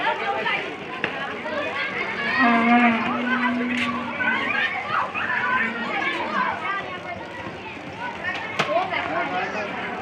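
Cattle at a Qurbani cattle market, among them a black Friesian and a red Sahiwal, with one low moo standing out over constant crowd chatter and voices nearby.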